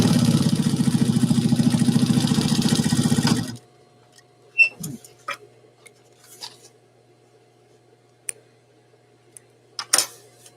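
A sewing machine stitching fabric runs in a fast, even mechanical rhythm for a few seconds, then stops, leaving quiet handling clicks and rustles of cloth.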